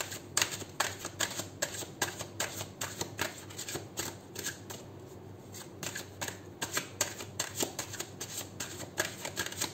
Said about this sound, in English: taking out four cards for pile number one.